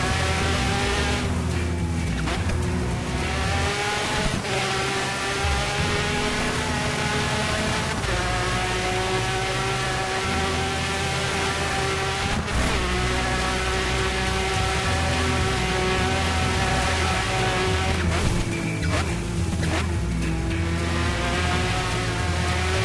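A Monster Sport SX4 race car engine in the Dirt 3 video game screams continuously at high revs, loud and close, with sharp gear shifts and repeated rising pitch sweeps throughout.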